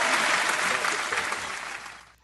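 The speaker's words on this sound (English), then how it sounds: "Round of applause for that." A crowd applauds with dense, steady clapping that carries on for a couple of seconds before tapering off.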